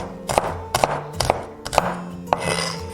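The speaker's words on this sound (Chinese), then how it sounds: "把萝卜切滚刀块" A kitchen knife cuts radish into roll-cut chunks on a cutting board, giving about seven sharp knocks in an uneven rhythm, close and clear with no speech.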